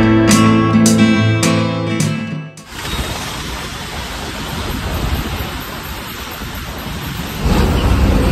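Outside a KSRTC bus travelling from Kochi to Munnar, heavy rain roars as a steady loud wash, preceded by a rolling rumble of thunder that cuts off abruptly near the start, with no talking.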